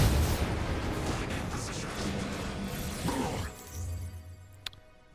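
In a video game, rockets fire in a dense, roaring barrage of blasts that fills the first few seconds, then fades to a low rumble before a single sharp crack.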